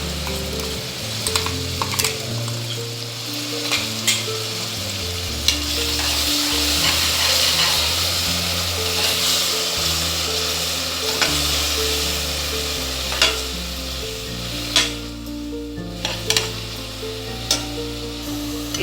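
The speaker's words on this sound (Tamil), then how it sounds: "இப்போ இந்த இஞ்சி பூண்டு புதினா எல்லாம் வதங்கிடுச்சு." Ginger, garlic, mint, green chilli and coriander paste sautéing in a pan for mutton biryani, a loud continuous sizzle broken by stirring scrapes and clinks of a utensil against the pan, no voices.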